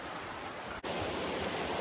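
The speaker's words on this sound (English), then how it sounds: "the sound of the creek" A creek flows steadily along a wooded trail lined with mountain laurel at Trough Creek State Park in Pennsylvania, a constant broadband rush of water close by with no voices.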